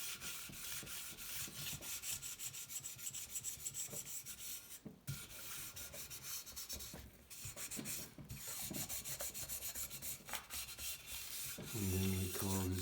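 A 1984 Honda C70 engine case mating surface being sanded by hand, with continuous close rhythmic rubbing strokes carrying on throughout, steady and fairly quiet with no talking.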